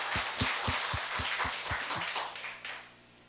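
A church congregation claps in an even, rhythmic beat of about a dozen sharp claps. The clapping is moderately close and fades out toward the end.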